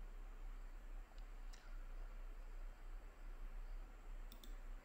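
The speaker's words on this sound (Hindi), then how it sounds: "ये मैं इसको कंट्रोल और माउस से क्लिक करके ओपन कर देता हूँ" A computer mouse gives a few faint, isolated clicks, spaced a couple of seconds apart, over a constant background hiss.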